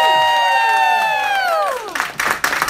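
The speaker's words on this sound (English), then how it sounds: "so I want you to please give us a rousing hand of applause for Vickie Howell, who is joining us." A live studio audience at a knitting-themed talk show claps and cheers for an arriving guest, the applause swelling in bursts after a bright musical flourish.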